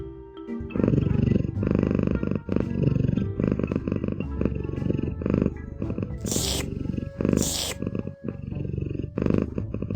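A cat purrs in a video game, a loud, close, rumbling purr running in rhythmic pulses for several seconds, broken by two short bright bursts of game sound.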